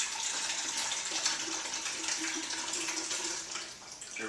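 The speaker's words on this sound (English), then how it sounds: "filter out this water into the pitcher" Water from blending coconut is poured and strained into a pitcher, a steady close gushing trickle with a bright splashy hiss that runs continuously and eases slightly near the end, with no talking.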